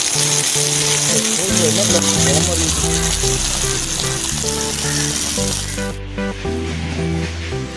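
Kal fish frying in a pan, a loud, continuous oily sizzle with steady crackling that holds throughout and eases slightly near the end, with music playing underneath.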